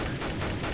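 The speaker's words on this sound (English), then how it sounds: "See, now he's just sort of shooting at a wall" Rapid gunfire in CS:GO as a player sprays shots into a wall, a dense continuous burst with a steady rhythm and no pauses, loud and close.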